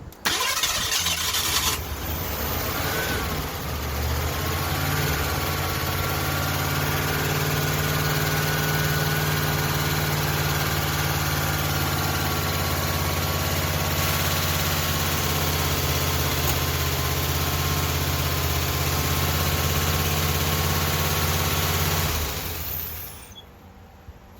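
A Ford LTD engine, freshly fitted with a new camshaft, cranks and catches, then runs steadily at a loud, rough idle for about twenty seconds before shutting off, with no talk over it.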